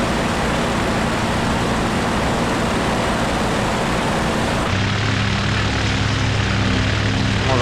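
Propeller aircraft engine droning in the WWII flight game IL-2: Battle of Stalingrad, a loud steady hum with a throbbing low tone that shifts abruptly in pitch partway through, no talk.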